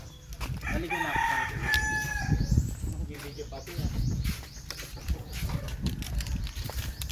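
Chickens crow and cluck on a backyard farm in the Philippines, several calls of varying pitch rising out of steady background noise and scattered voices nearby.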